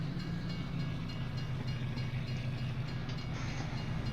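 A train rolls past with a continuous low rumble and the rhythmic clatter of its wheels, steady and fairly close, with no talking.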